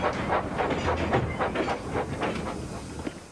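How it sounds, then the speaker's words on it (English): A cartoon steam engine puffs along in a steady rhythm of chuffs and hissing steam, with train-like rumble under it and no voices. "Edward picked up steam and proudly puffed past Spencer."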